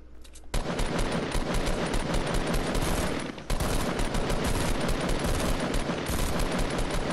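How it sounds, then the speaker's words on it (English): Sustained automatic gunfire in the Fortnite Battle Royale video game, a dense continuous burst of rapid shots that pauses briefly and then resumes, loud and close throughout with no talk over it. "Shoot out that, shoot out the bridge."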